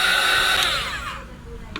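Heat gun blowing on a Samsung Galaxy A02s phone back cover, a loud close rushing whine that fades out after about a second, ending with a small click.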